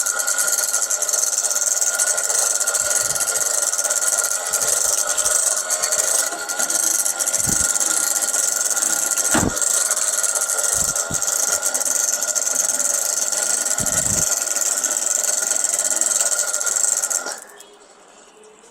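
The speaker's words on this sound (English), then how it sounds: "how this fanning machine works" A hand-cranked fanning machine runs steadily and loudly, giving a continuous mechanical whir with rattling and sharp knocks, then winds down and stops near the end.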